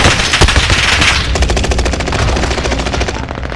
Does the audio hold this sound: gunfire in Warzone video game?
yes